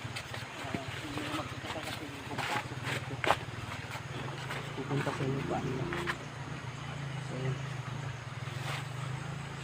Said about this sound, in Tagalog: May mga motor paparating.